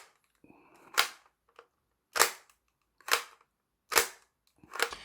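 A 1999 Toystar Colt toy BB pistol is pump-action cocked and fired by its silencer-shaped grip, giving five sharp, close cracks at roughly one-second intervals, with a faint sliding rasp from cocking before the first shot.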